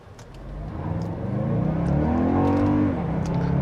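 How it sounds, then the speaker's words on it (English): A 2024 Toyota Grand Highlander Platinum Hybrid Max engine pulls hard uphill with a deep, burly V6-like drone, its pitch climbing steadily as the SUV accelerates, then dipping briefly before holding a steady, loud growl. "The engine also has a very burly V6-like sound to it"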